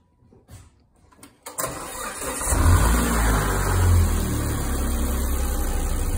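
A 2004 Volvo V70R wagon's engine cranks and catches after a quiet start, then revs up into a loud, steady mid-pitched roar that holds close and strong to the end.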